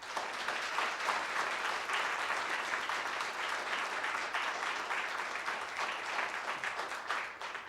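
An audience in a lecture hall applauds steadily in welcome of designer Ed Fella, a dense, sustained wash of clapping with no voices over it.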